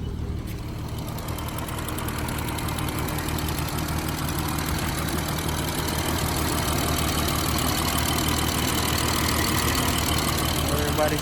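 A BMW B58 engine idles nearby in a steady, even rumble that holds without revving for the whole stretch, with faint background voices.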